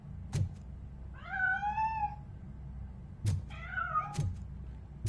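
Cat meowing in the video game Robocop Rogue City: two drawn-out, wavering meows, each about a second long, set among low thuds and a steady background hum, with no talk.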